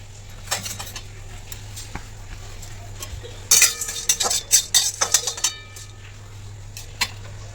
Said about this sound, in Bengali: এবারে আমি মশলাটাকে দিয়ে দিলাম, দিয়ে একটু হালকা আছে আমি এটাকে ভেজে নেবো